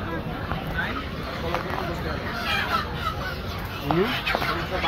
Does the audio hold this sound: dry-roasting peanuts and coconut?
no